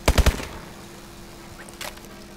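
A short burst of three rapid UMP submachine gun shots rings out in Call of Duty: Advanced Warfare, followed by quiet background hum and a faint later click.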